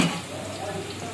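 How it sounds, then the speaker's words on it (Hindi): Hot ghee heating in a pan before pakoras go in, giving a steady soft sizzle and crackle close by with a faint clatter at the start. "इधर हमारा ऑयल गर्म हो रहा है"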